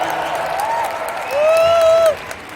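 A crowd at a big corporate convention applauds in a dense burst that swells louder midway and then drops off abruptly, with faint tonal squeals riding over the clapping.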